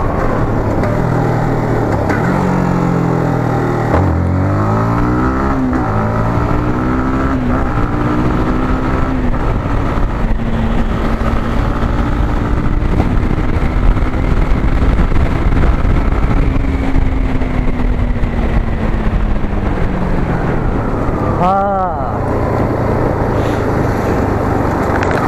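A Yamaha MT15 BS6 motorcycle is ridden through the gears, its engine pitch climbing and dropping with each shift, then holding a steady drone under constant wind noise, with a brief sharp rev near the end.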